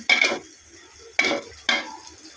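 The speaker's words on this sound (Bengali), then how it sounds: "দেখেন বন্ধুরা, আমার মুরগিগুলো সিদ্ধ হচ্ছে" Chicken pieces cooking in a pot, heard as three short scraping, sizzling strokes of stirring, each a sharp onset that quickly fades, close and alone without talk.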